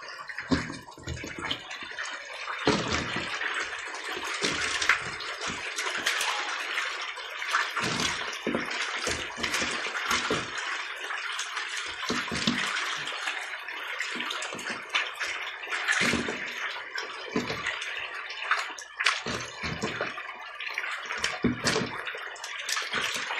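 Water runs steadily into a biofloc fish tank during a harvest of Vietnamese koi fish, a loud, close, continuous splashing rush with irregular surges and drips and no talk.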